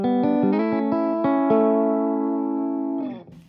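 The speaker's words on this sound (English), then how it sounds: "For this demo, I'm using a Fender American Professional Strat into a Dr. Z Z-Rec." Fender American Professional Stratocaster played clean through a Dr. Z Z-Rec amp: a few picked notes lead into a sustained ringing chord that decays and cuts off near the end, heard alone.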